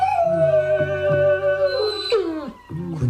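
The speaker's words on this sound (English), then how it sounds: "Kunju, our dog Jackie seems to have received a beating from them." A dog that has just been beaten gives a long, wavering howl that slides into yelps and whimpering cries, loud and close, with no talking over it.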